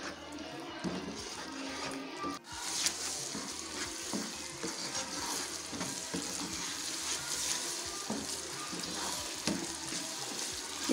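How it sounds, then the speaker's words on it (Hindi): Besan boondi simmers in sugar syrup in a pan over low heat, a steady bubbling sizzle with occasional stirring scrapes, continuous and close-up, no talking. "इसको हम शीरा खुश्क होने तक पकाएंगे।"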